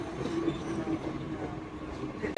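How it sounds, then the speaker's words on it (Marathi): A metro train arriving at a platform, its low rumbling rail noise steady and fairly close throughout, with a faint tonal whine and background chatter from people nearby. "ट्रेन आली सर करत"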